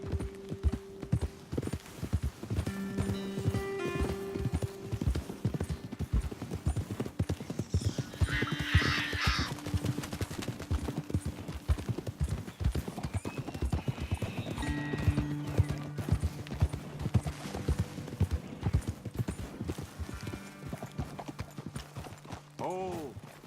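Horses' hooves clip-clop steadily through a Red Dead Redemption 2 ride, with occasional neighs and whinnies mixed in, while people talk over the riding and game music plays underneath.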